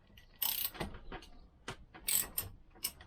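A ratchet wrench working loose the bolts on a Lambretta scooter, quick bursts of rapid clicking pawl ticks separated by short pauses, close but quiet, with no talking.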